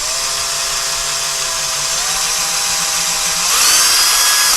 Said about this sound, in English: And now you can see by the drill bit how it's giving a little resistance. We know we're drilling into a beam.